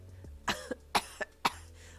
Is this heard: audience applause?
no